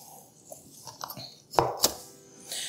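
A knife chops fresh dill on a board in a kitchen, with a few soft taps followed by two sharper, louder cuts close by, then quiet handling.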